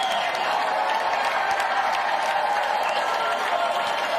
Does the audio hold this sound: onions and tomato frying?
no